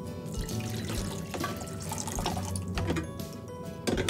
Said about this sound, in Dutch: Zoals het water in het reservoir doen.